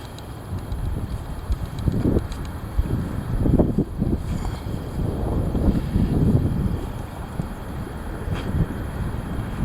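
Heavy wind buffets the microphone in gusty, rumbling bursts that rise and fall, loud and close, with no talking.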